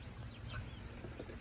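Pet ducks on a garden homestead give soft, low clucking quacks close by, a faint continuous murmur with a few brief higher calls.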